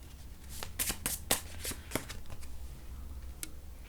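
A deck of tarot cards is shuffled up close, giving a quick run of crisp riffling flutters followed by softer papery rustles, with no one speaking.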